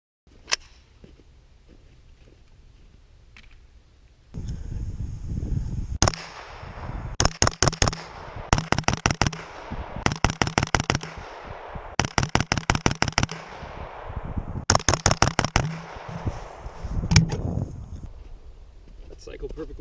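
A PSA AKV 9mm fires at a shooting range in several sharp, rapid strings of shots, each burst loud and close, separated by brief pauses after a quiet start.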